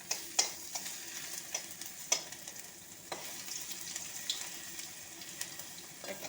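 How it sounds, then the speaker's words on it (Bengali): Bay leaf, dried chili and ginger tempering in hot oil, a faint crackling sizzle broken by several sharp spoon clinks and stirring scrapes against the pan, fairly quiet and without speech. "দেখো, তেজপাতা, শুকনো লঙ্কা আর তোমার একটু আদা ফোড়নে"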